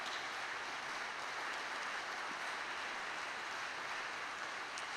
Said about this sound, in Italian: accolto da un applauso